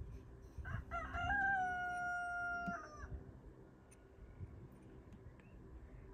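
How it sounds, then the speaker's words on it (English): A rooster crows once in the distance, a faint drawn-out cock-a-doodle-doo, over quiet outdoor background noise. "There goes my roosters in the background"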